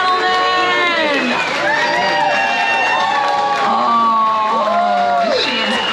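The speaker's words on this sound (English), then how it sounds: "Let's give her a big round of applause, ladies and gentlemen." Audience at a pin-up contest cheering and whooping for the crowned winner, loud and continuous, with excited shouts and voices rising over steady applause throughout.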